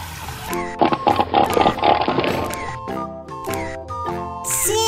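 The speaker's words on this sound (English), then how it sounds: "Seal." A seal calls with loud, harsh barking and groaning bursts close by, a dense rough stretch followed by a few shorter honking calls.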